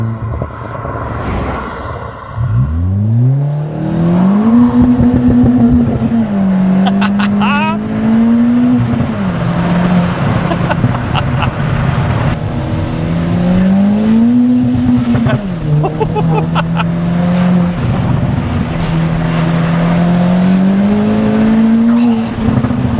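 A 370bhp Ford Fiesta ST hot hatch accelerates hard through the gears. Its engine note climbs loudly in repeated rising pulls with brief dips at each shift, close and sustained throughout.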